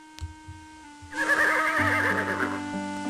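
A horse in the video game King's Quest 6 whinnies loudly with a wavering, drawn-out neigh, followed by a low rumbling snort, after a few soft thuds.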